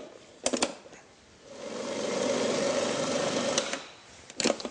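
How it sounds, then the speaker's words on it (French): A food mixer runs for a couple of seconds, blending praline paste with sugar into a steady mechanical whir, bracketed by short clicks and clatter before and after. "Et là, on va mixer le tout ensemble."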